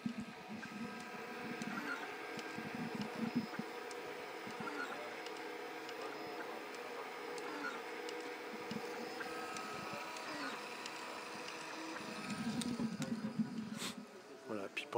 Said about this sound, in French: c'est une imprimante 3D. On va aller s'amuser à voir comment elle est en train de travailler.